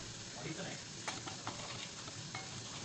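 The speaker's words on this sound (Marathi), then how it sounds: "असं मस्तपैकी हलवून" Turmeric and homemade spice masala being stirred in a hot pan, a steady close sizzle running throughout, broken by a few light utensil clinks against the metal.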